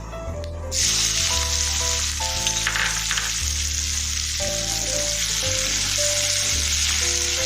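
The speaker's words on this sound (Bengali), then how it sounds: "পেঁয়াজটা ভাজা ভাজা করে নেবো।" Loud, continuous sizzling of chopped onions frying in hot oil after cumin tempering, close up, with a stirring scrape or two, under steady background music.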